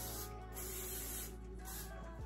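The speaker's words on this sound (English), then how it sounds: "we're gonna spray it" Hairspray hisses out of a can onto freshly curled hair in a few close, steady bursts with brief pauses between them.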